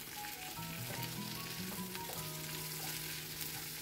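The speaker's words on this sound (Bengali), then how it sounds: "কাটা পেঁয়াজগুলো একটু ভেজে নিব" Chopped onions frying in about a tablespoon of oil for chicken malai curry, a steady soft crackling sizzle with faint tonal hum underneath, close and quiet, no voices.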